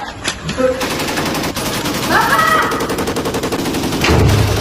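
Gunfire from a staged shootout in a student short film about the 1965 G30S coup, rapid machine-gun-like bursts crackling close and loud throughout, with a brief voice and a low thud near the end.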